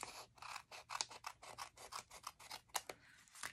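Scissors snip repeatedly through paper, trimming off overhanging cardstock in a stamping craft project; a quick, steady run of about a dozen crisp cuts, close and clear, with no talking.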